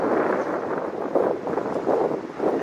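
Steady wind gusts through a forest during logging work, a continuous rushing hiss with gentle swells, buffeting the microphone and heard alone with no talk.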